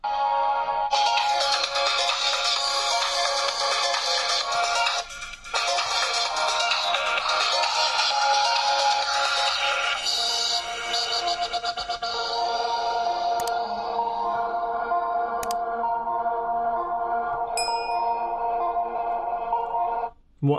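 An Umidigi A9 phone loudspeaker plays a bright electronic ringtone melody, loud and close, with a brief dropout near the middle and tonal chimes toward the end before it cuts off.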